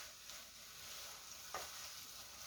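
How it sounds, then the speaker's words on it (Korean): Korean side dishes are stir-fried in a dry pan without oil, producing a faint, even sizzle with one light scrape of the spatula. "바짝 볶아주세요. 물기 없게."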